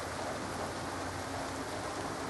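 Rain falling outdoors during a walk with a husky and a malamute, a dense, unbroken wash of patter at moderate volume with no other sounds standing out.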